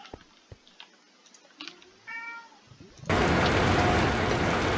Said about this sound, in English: He just wants to meow.